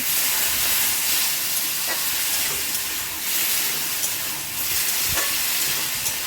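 Water poured into a pan of frying potatoes for a spicy potato, eggplant and yardlong bean curry sets off a loud, steady hissing sizzle that continues throughout, close and unbroken.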